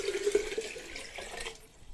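Sugared water for water kefir, poured from a mixing vessel into a jar, gives a short close liquid pour that trails off into quiet.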